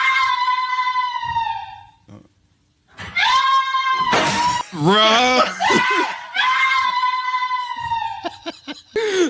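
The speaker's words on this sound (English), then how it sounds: "That's a 2015 scream right there." Loud, long, wavering scream from a played viral clip, repeated in drawn-out wails with short breaks, mixed with laughter and a brief spoken word.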